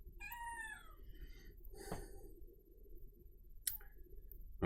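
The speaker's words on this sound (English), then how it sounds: "Desperate house cat here." A house cat meows once up close, a clear drawn-out call with falling pitch, followed by scattered faint clicks and a short sharp tick against a quiet room background.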